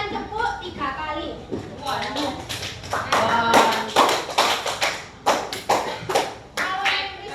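Schoolchildren in a classroom clap in quick, sharp groups, several rounds of bright claps rising over a teacher's instructions, the room's chatter and voices mixing with the rhythmic hand slaps.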